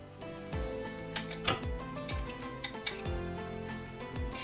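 Chopped onion, tomato and garlic tumble into a metal pot, giving a run of clinks, knocks and scraping taps as the pieces are tipped and pushed in.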